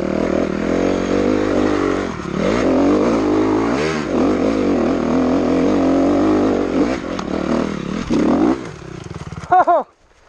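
Dirt bike engine revving hard on a wooded trail ride, a loud, continuous throttle roar rising and falling with gear changes, ending in a sharp high-pitched rev burst before cutting off.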